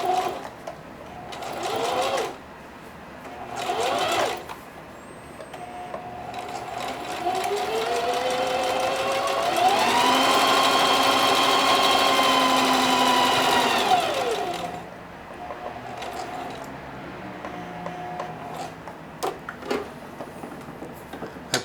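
A sewing machine stitches denim, with short bursts followed by a long steady whirring run that rises and then winds down, close and loud in a quiet room.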